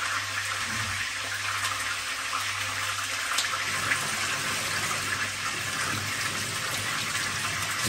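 Water is poured into a cooking pot while a dish of maize and young turkey is prepared, a steady broadband gushing and splashing that runs unbroken for several seconds at close range, with no talking over it.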